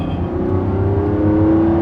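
A Lamborghini Revuelto's V12 engine pulls steadily from low revs, a loud, close drone whose pitch climbs gradually and smoothly over a couple of seconds with no talking.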